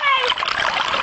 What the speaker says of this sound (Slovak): Zvuk vody.